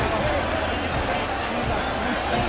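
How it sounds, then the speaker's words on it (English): Dense crowd noise at a Canelo Alvarez versus Gennady Golovkin boxing match, a steady roar of applause and cheering filling the arena with no break, loud and continuous throughout. "Big ovation from the crowd."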